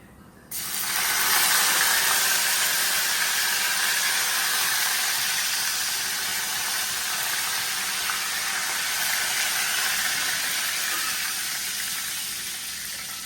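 Cumin, mustard seeds and curry leaves drop into hot oil with asafoetida and burst into a loud, steady sizzle with crackling pops that continues without talk, easing slightly toward the end.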